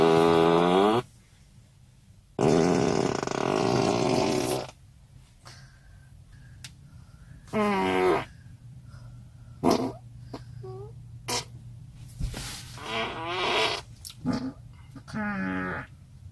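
Novelty fart sound effects played on demand by a Tesla car's December update, several loud blasts of varied length and pitch alternating with quieter gaps.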